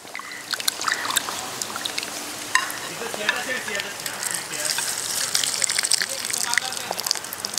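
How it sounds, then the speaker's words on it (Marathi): Meat being washed with water in a kitchen before marination, a steady splashing gush with intermittent clinks and stirring noises throughout, moderately loud and close. "एकदा तरी पण परत पाण्याने आपण धुवून घेऊया."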